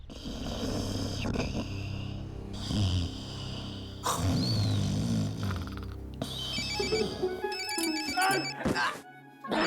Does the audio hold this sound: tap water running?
no